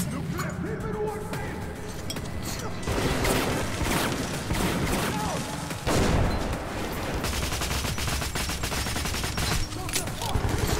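Chaotic firefight in Metro 2033 Redux with repeated bursts of close gunfire and scattered shots running throughout, layered with barking-like yelps and other battle noise, busy and loud across the whole stretch.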